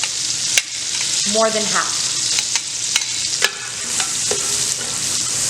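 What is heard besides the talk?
onion frying in the pot for Toscana soup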